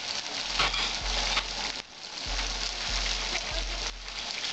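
Spice paste of turmeric, cumin, coriander and dried red chilli sizzles and fries in a pan for a Bengali katla fish curry, a steady close hiss with a low hum beneath it and no voices.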